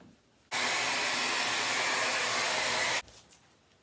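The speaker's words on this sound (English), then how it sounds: "I am going to use my blow dryer" A blow dryer drying a milk-painted frame switches on and runs as a steady, loud, even whoosh for about two and a half seconds, then cuts off abruptly.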